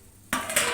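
A pot lid lifts off a pan of cooking fish, giving a short metallic scrape and clink. A steady hiss of cooking follows right away.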